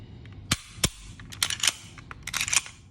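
An HK P30 pistol, one with a standard trigger and one with a Gray Guns trigger, gives sharp trigger and reset clicks: two crisp snaps, then a quicker cluster of lighter metallic clicks, heard close and with no talking.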